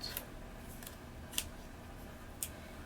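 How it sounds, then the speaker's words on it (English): Scissors snip through paper in a few short, crisp cuts spaced about a second apart, close by in a quiet room. "I cut like right before the edge"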